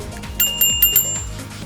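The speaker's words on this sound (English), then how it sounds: "I installed a regular bell on the other side of the handlebar." A regular bicycle bell mounted on a handlebar, struck four times in quick succession, bright ringing tones that are close and clear with nothing else heard.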